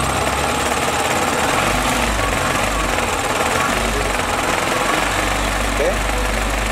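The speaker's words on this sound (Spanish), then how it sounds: "Ese es el aire acondicionado, el motor del aire acondicionado que está vibrando." Renault Trafic engine running with its air conditioning compressor vibrating from a deformed accessory pulley, a loud continuous rumble and shaking drone heard up close, steady throughout.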